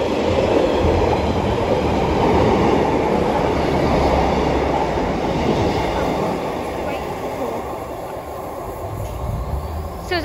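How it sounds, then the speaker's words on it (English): A Transport for Wales Class 143 passenger train on the Penarth to Merthyr Tydfil service passes through Treforest station, a loud sustained rumble and rattle of wheels on track that slowly eases, with faint speech mixed in. "So as that train passes through"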